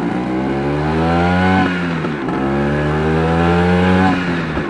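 Engine of a classic Vespa scooter being ridden through a town, a steady buzzing two-stroke drone that rises and falls with throttle and gear changes, close and continuous with no talking.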